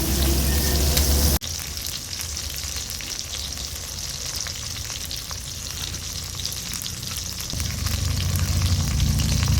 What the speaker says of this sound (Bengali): মাছগুলো এবার আমি ভালো করে ভেজে নেব